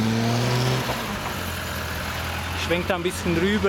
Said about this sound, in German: Kernige Motorengeräusche.